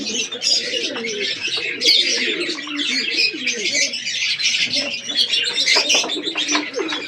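Pigeons cooing steadily in a loft, with soft, overlapping coos running throughout alongside busy chirps and tweets. A faint flutter of wings comes through now and then, and the birds sound close.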